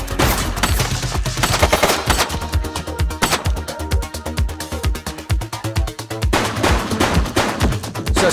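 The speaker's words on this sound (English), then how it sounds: "He's shooting!" Rapid bursts of gunfire from the police video game The Precinct fill the scene, loud and dense over a steady background music bed, with repeated sharp shots clustering throughout.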